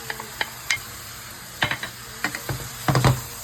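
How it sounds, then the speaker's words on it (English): Ground beef with onions and garlic sizzles in a pan for lasagna, with scraping stir strokes and clacks of a utensil coming in irregular bursts over a steady frying hiss, close and fairly loud, no talking. "now we're gonna add our onions and our garlic from earlier"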